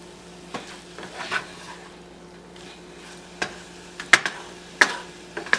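Scrambled eggs cooking in a pan for a breakfast bowl, with a soft steady sizzle under a low hum, broken by a few sharp scrapes and clicks of the spatula against the pan.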